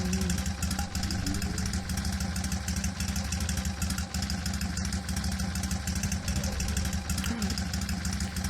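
Steady, loud two-cylinder car engine with a lawnmower-like chug, idling and revving evenly in a VRChat game, running continuously with no talk over it.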